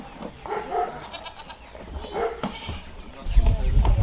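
Goats bleat nearby in short wavering calls, with a dog barking and general farmyard noise, ending in a louder rumble of movement.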